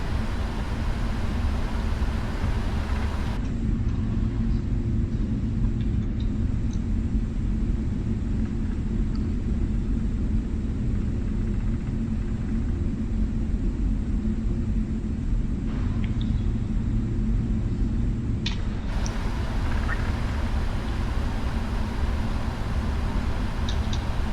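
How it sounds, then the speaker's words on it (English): Jet engine thrust on a PMDG 777-300ER in a flight simulator, heard as a steady, loud, broadband rumble and roar that continues throughout with no talking. "Now we'll add a bit more thrust because we're all straightened down now."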